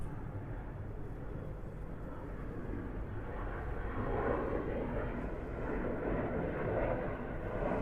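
Distant Air France airliner departing Atlanta airport, a steady broad jet engine roar that holds throughout and swells slightly in the second half.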